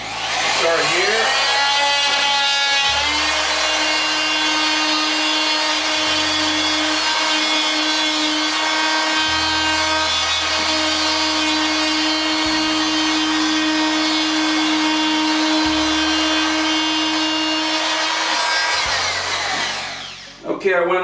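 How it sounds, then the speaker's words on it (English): A power tool cuts across a termite-damaged wall at the studs during a repair, a loud continuous high whine with a steady pitch for about eighteen seconds before winding down, while low speech-like tones change underneath. "we're gonna go ahead and do a cut across here"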